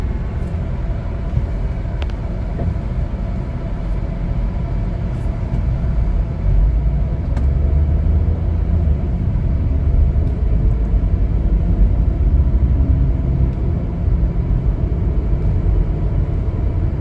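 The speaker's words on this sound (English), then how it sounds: "We're going to take a test drive in a moment." A 2021 Chevrolet Equinox LT with 4,600 miles drives on a test drive, its engine and road noise forming a steady, loud low rumble from inside the cabin, with no one speaking.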